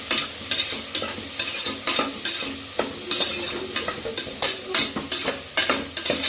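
Onions sautéing in a pan for mutton biryani, a steady close sizzle broken by repeated scraping stirs of a spatula in a regular rhythm, with no talking.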